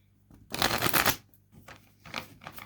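Tarot cards being shuffled in a few quick riffling bursts, close and crisp, with brief pauses between them; no voices.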